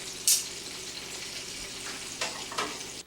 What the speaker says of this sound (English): turn your heat up at first, sear on both sides, then turn it down, and then do a slow cook